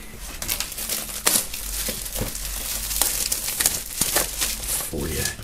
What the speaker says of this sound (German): Wir machen mal die Folie ab